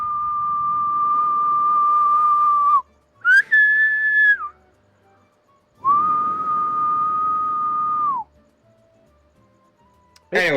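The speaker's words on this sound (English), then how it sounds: "No, I guess I just whistle." A person whistles long steady sustained notes, two extended tones separated by a shorter higher-pitched one, close and fairly loud with silent gaps between.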